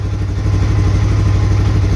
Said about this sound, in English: I think the whole engine itself actually runs quieter with this new tensioner